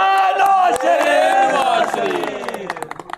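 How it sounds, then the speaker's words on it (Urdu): Party workers at a PML-N workers' convention chant slogans for Nawaz Sharif in a loud, close mass of voices, fading into scattered claps and shouts at the end. "آج پھر لوگ نواز شریف کے نعرے مارتے ہیں"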